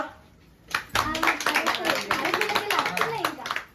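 Several people clap together at a birthday celebration, a quick burst of close, irregular handclaps that starts after a short pause and carries on steadily, with voices mixed in.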